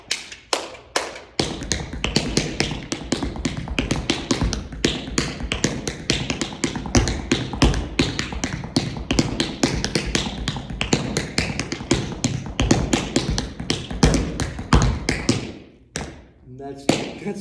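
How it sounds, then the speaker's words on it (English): Rapid tap dance steps on a hard floor, a 16th note roll grouped in chunks of three, repeated twice as a steady stream of crisp clicks and heel thuds before stopping. "It is a 16th note roll, but it has this, it's kind of made up of chunks of threes"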